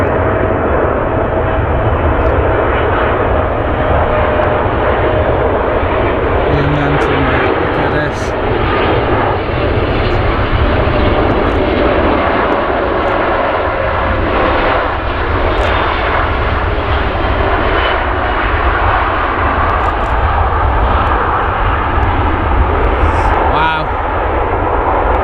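An airliner arrives at Manchester Airport's south side, a loud and sustained jet engine roar that fills the whole stretch without a break, close and powerful.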